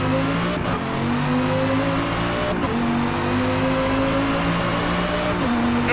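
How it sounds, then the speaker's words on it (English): A car in the Forza Motorsport racing game working through a handbrake turn: a loud, high-revving engine whines steadily, with its pitch dropping sharply at a few gear shifts, and no voices. "Had to use handbrake there."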